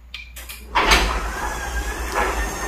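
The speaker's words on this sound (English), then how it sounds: "We have a garage door opener, and here's the mechanism at the top." A new Wi-Fi garage door opener moves the door along its track. A low motor hum runs under sliding, rattling scrapes and a few knocks, close and moderately loud, with no talking.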